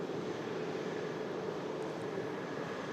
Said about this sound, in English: a bit of a taxi yet to go, as the plane needs to traverse a lot of the apron now